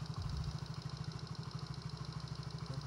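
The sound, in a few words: Yamaha Mio J 2012 scooter engine idling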